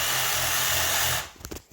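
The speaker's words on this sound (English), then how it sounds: "Take your Sawzall." A Sawzall reciprocating saw cuts through a pig's blade bone during home butchering, a loud steady buzzing rasp for just over a second that stops abruptly, followed by a few faint knocks and handling sounds.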